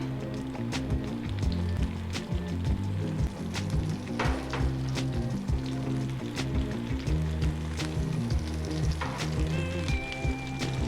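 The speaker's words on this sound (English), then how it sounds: "We're going to saute these until they're almost cooked down." Zucchini sauteing in hot coconut oil in a pan, a steady bright sizzle running throughout with occasional sharp pops and clinks of stirring, close and fairly loud, no one talking.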